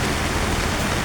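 Heavy rain pours down in a dense, even hiss that fills the brief moment, loud and close with no pauses or voices.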